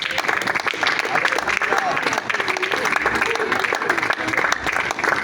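Loud, dense applause from a large church congregation fills the whole stretch, with scattered cheering mixed into the clapping.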